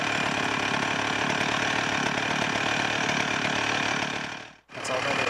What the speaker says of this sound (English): That's all that is, just a recording of a chainsaw.